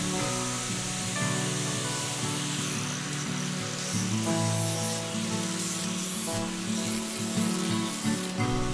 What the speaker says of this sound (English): this is just an angle grinder with a flat disc